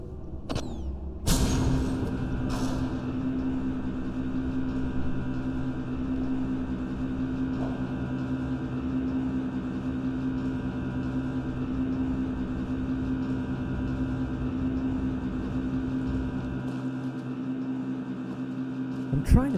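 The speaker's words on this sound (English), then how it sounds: "We hear the whir of machinery" A continuous low mechanical hum and whir of machinery in the video game The Witness drones steadily throughout, with a brief clatter near the start and a slight thump at the end.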